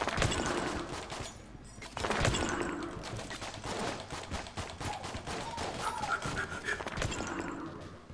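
Video game gunfire from Enter the Gungeon sounds as dense, rapid bursts of shots, with piercing bullets in the mix. The volley is sustained and fairly quiet throughout.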